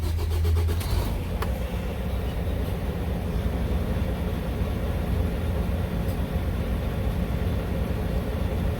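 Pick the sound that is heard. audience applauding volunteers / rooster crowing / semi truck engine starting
semi truck engine starting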